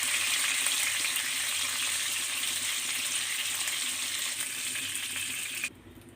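Pangash fish sizzles as it fries in oil in a pan, a bright steady crackle held for several seconds before it suddenly cuts off.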